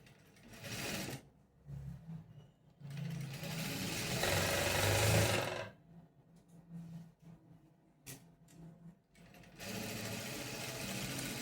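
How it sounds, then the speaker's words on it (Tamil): A sewing machine stitches a blouse dart, close and clear. Short whirring bursts start and stop, then one longer steady run follows, then more brief stop-start runs, with no voices. "அந்த கோடு போட்டது மேலேயே நான் ஸ்டிச் பண்ணுறேன்."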